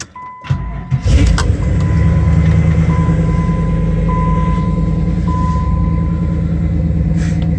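A 1993 Pontiac Trans Am engine cranks and catches, then settles into a loud, steady low rumble up close, with a faint whine riding on top.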